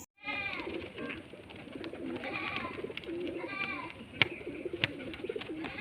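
High-flying tumbler pigeons cooing close by, overlapping soft warbling coos running throughout with a couple of sharp knocks near the end.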